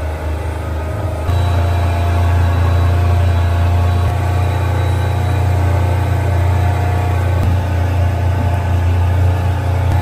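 A faulty motor on a tour boat near Phi Phi Island chugs along slowly, a loud steady low drone that steps up after a moment and then holds unbroken with no voices.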